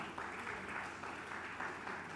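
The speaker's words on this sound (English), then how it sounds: "Big round of applause, everybody." Audience applause for a panel at a business conference, a soft, steady patter of many hands clapping at a distance, continuous and fairly faint.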